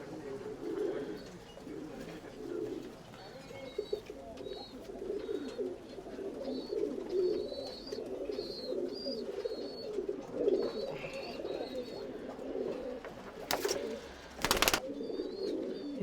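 Many tumbler pigeons coo steadily in a loft, making a low, continuous burbling chorus with faint chirps over it and a brief loud bump near the end.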